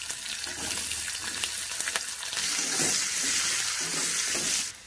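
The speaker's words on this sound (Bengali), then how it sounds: "দিয়ে দিয়েছি 2টো তেজপাতা, একটু গোটা গরম মশলা দিচ্ছি, 5 ফোড়ন, একটা কাঁচা চেরা লঙ্কা, দিচ্ছি পেঁয়াজ কুচি" Chopped onion, bay leaves, whole garam masala, five-spice and a slit green chilli crackle in hot oil for a village-style fish curry, a loud continuous sizzle that swells midway, with light stirring scrapes and no talk.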